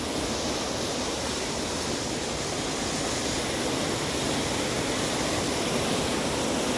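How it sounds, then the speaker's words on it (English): The high-volume West Aubinadong River rushes past, a loud, dense, unbroken roar of fast-flowing water filling the whole stretch with no talk. "So this is the amount of water coming through this river."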